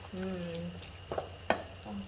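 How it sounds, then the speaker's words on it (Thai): A wooden paddle stirs a thick Thai steamed fish curry mixture with coconut milk in a big pot, giving soft scraping and a couple of sharper knocks over a low background hum, with a brief voice early on. "กวนค่ะใช้วิธีการกวนนะคะกวนจนแบบว่าหม้อนี่ ลิ้งได้เลยอ่ะ"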